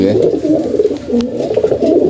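A domestic pigeon coos loudly and continuously at close range, a low throaty murmur that rolls on without pause.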